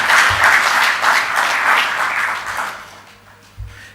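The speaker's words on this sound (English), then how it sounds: "I think they deserve a clap." Loud, full applause from an audience at a bank group's half-year financial results presentation, dense clapping that gradually thins and fades over a few seconds, with a low thump near the end.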